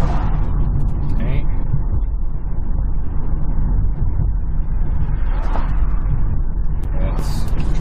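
A 2017 Hyundai Ioniq Electric drives with all four windows down, and wind roars steadily through the cabin. The low, constant rumble is loud and close, with talk over it.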